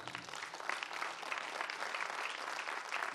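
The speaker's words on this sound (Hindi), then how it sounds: "एक बार जोरदार तालियां हो जाए।" Faint, steady applause from an audience at the RFCM Idol 2021 finale show, a continuous wash of clapping with no talk over it.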